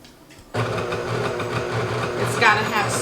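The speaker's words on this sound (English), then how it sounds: "I'm going to put the heavy whipping cream in my mixer, which is going to be the KitchenAid stand mixer" A KitchenAid stand mixer switches on at medium speed to whip heavy cream, its motor starting abruptly and then humming steadily and loudly with a rhythmic beater churn.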